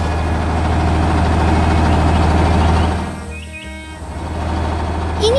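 Green and white tractor with its engine running in a steady low idle, loud and close, dipping briefly before resuming, with a faint bird-like chirp near the end.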